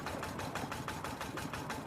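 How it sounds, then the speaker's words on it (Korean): A boat engine heard through fog at sea, a steady rhythmic chugging hum with regular pulses, distant and fairly faint, running alone without voices. "멀리서 익숙한 엔진 소리가 들려왔다."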